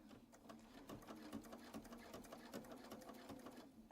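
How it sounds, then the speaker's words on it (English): Sewing machine stitching two pieces of quilt sashing together with a quarter-inch seam, a steady fast mechanical whir with rapid needle ticks running continuously and close. "those pieces are both being sewn at the same time"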